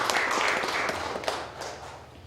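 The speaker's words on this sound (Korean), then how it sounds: "우리 박수로 감사해" A congregation applauds to thank visiting pastors at a New Year's thanksgiving service at a retreat center, producing a steady, dense wash of clapping that gradually thins and softens toward the end.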